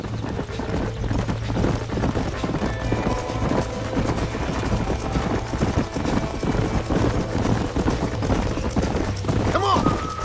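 Horse hooves clip-clop steadily in a Red Dead Redemption western ranch scene, the rhythmic footfalls running continuously through the clip with a low droning bed and background game sound.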